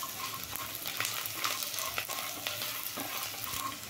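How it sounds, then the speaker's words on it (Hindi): Cumin seeds, chopped green chili and ginger fry in a pan alongside peanuts and potatoes, making a steady, close sizzle with soft stirring scrapes and small crackles throughout. "अब हम डाल देंगे जीरा, कटी हुई हरी मिर्च, अदरक। अब इन सबको भी भून लेंगे।"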